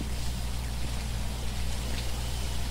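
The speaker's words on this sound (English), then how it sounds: "It's raining." Steady rain falls in the video game Phasmophobia, a constant even wash of noise heard alone without breaks or talk.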